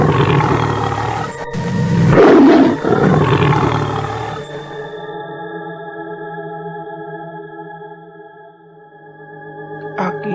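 A pair of white tigers roar, a loud, deep, distorted growling roar that swells and fades over several seconds, then gives way to a sustained processed hum, as in a dramatized folk tale.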